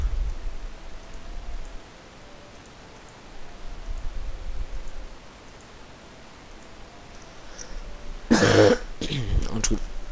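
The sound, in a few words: coughing and throat clearing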